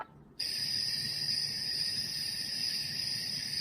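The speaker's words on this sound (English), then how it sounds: "Crickets, I believe." Crickets chirp from a baby sound machine as a steady, continuous high trill with a faint low hum beneath, starting abruptly after a short quiet moment and holding evenly throughout.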